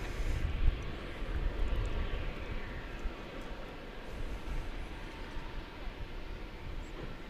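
American Airlines jet taking off from runway 18 Left at DFW Airport, a broad rumbling engine roar that is loudest at the start and then holds as a steady, somewhat distant drone.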